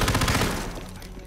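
Guard gunfire in the Hitman 3 video game, a dense burst of rapid shots up close at the start that thins into a rattling, decaying tail over about a second.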